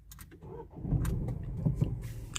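A Dacia engine with start-stop is restarted after a few key clicks, the starter catching and the motor settling into a low, steady idle heard up close inside the car.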